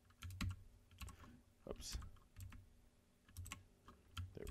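Keys clack steadily on a mechanical computer keyboard, quick irregular bursts of clicks close by, with a brief muttered word from the typist.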